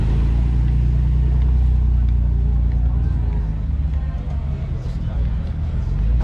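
A Nissan Z32 300ZX pulls away from a car meet in Hayward, its engine a steady low rumble that fades slightly as it departs, with crowd chatter and other idling cars around it.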